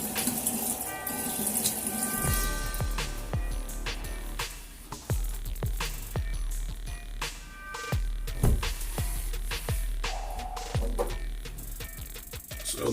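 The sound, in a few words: water running while rinsing safety razor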